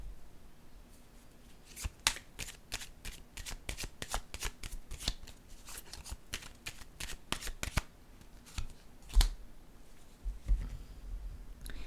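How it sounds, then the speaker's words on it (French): A deck of playing cards shuffled by hand, heard as a series of crisp riffling and snapping bursts in quick irregular rhythm, close and fairly loud, with no talking. "Je vais piger une carte ici."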